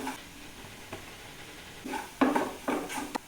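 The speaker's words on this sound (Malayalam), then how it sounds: "ഇനി ഇതിലോട്ട് ബാക്കി ചില്ലി ഫ്ലേക്സ് ഇടുക, കുരുമുളക് ഇടുക, ഒന്ന് ചിക്കുക." Spoon stirring chili flakes and pepper into butter garlic egg in a pan, quiet sizzle underneath with a few louder scraping strokes toward the end, close up and with no talk.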